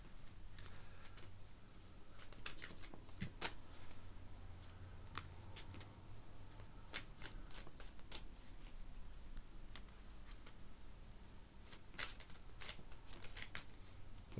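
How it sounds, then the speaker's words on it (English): Tarot cards being shuffled by hand at close range for a Celtic cross reading, quiet soft riffles and sharp snaps of the deck coming in irregular bursts with short pauses. "Let me just shuffle the cards real quick."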